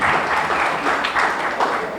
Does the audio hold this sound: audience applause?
yes